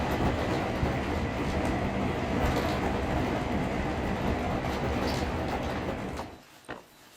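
A train on rails near Tokyo rumbles steadily with a dense, continuous roar for several seconds before fading out near the end, with no talking.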